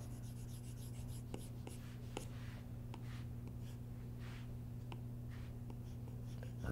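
A stylus erases on a tablet screen while drawing in Procreate, giving faint, repeated soft rubbing and tapping strokes over a steady low electrical hum.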